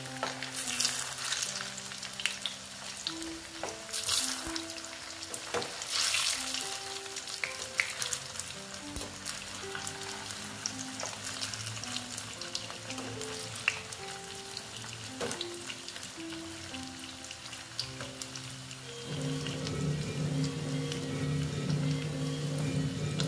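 Food fries gently in a pan on low heat for a potato and flattened-rice breakfast dish, giving a soft, continuous sizzle with occasional stirring clinks. The sizzle grows a little fuller toward the end.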